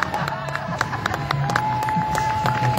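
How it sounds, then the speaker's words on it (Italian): Audience at a carnival parade awards ceremony in Monfalcone claps and cheers for a prize winner, a steady wash of applause with a crowd murmuring and voices underneath. "facciamo un forte applauso per la nipote di Ettore Mazzoli"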